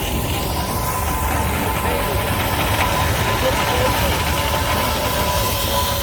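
A 1919 Fowler steam ploughing engine hisses loudly and continuously at a steam rally in Masham, with a steady mechanical rumble and a faint whistling tone underneath.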